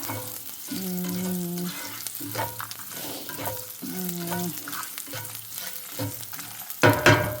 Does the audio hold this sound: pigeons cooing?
no